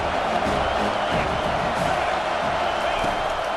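Stadium crowd noise from an NCAA 25 college football video game, Washington against USC, a steady loud roar with cheering swelling throughout, broad and continuous without breaks.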